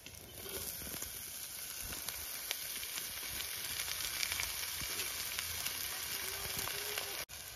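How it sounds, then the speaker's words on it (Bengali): Bheto greens fry with onions and dried chillies in a pan of mustard oil, giving a soft continuous sizzle with light crackles and a few stirring scrapes, fairly quiet and even throughout, ending in a short dropout. "এবার শাকটা দিয়ে দেবো।"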